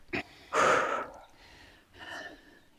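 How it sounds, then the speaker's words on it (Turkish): A person out of breath on an outdoor trek breathes heavily, with a quick gasp followed by a loud, long exhale and another slower breath a moment later, close and alone. "Biraz nefessiz kaldık."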